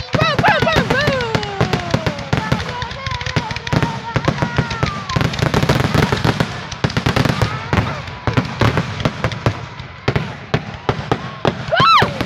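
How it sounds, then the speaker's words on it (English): A rapid barrage of fireworks crackles and bangs at close range, with whistling rockets early on and people talking and cheering throughout. "I always like fireworks."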